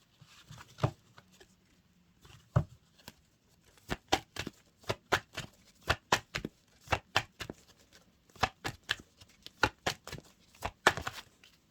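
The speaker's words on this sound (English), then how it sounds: "So I cut the deck" Tarot cards being shuffled and cut, giving bursts of crisp, rapid snapping clicks in uneven runs with short pauses between them, close and fairly loud, with no talk.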